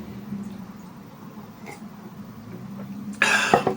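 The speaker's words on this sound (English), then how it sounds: "constantly coughing and clearing my throat" Near silence, then a single sharp, close cough bursts out near the end, with a bit of rough throat noise.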